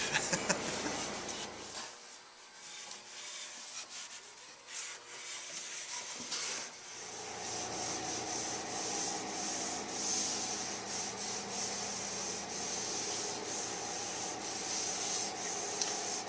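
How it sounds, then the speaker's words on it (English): Continuous wet sanding with 400-grit sandpaper and water, a steady close rubbing scrape that runs throughout with slight changes in stroke and intensity. "So I'm wet sanding this, just starting off with 400 grit sandpaper here and some water"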